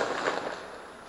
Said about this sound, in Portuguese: Ó, tiro de metralhador.